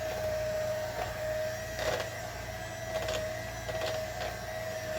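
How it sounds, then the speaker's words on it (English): KitchenAid stand mixer beating a Thanksgiving dessert, a steady motor hum with a constant whine, running alone at moderate loudness with slight periodic surges from the beater. "One thing I love about this KitchenAid mixer is that it's very quiet."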